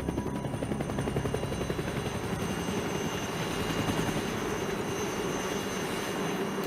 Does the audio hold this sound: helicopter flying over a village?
yes